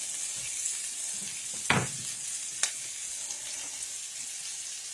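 Sliced peppers and one large diced onion sauté in a pan, giving a soft steady sizzle with a couple of brief utensil knocks and scrapes, close and free of talk.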